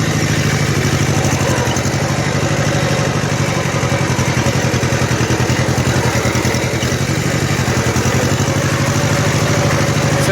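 A Kubota L-1500 tractor engine runs in second gear, a steady, loud, close diesel chug with a rapid pulsing clatter that stays even throughout.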